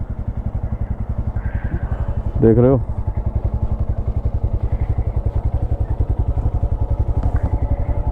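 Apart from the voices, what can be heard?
motorcycle engine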